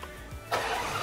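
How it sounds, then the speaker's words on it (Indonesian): Ferrari Purosangue SUV with a naturally aspirated V12 firing up: a short starter whir, then the engine catches with a sudden loud burst and settles into a rich, steady running roar, close by. "NA ini baru suara yang seksi banget dari Ferrari Purosangue."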